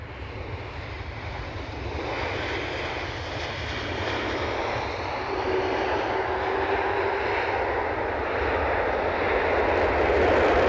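A Delta airliner lands at Edinburgh Airport, its engines a broad, steady roar that swells gradually louder across the span, heard from outdoors with no talk.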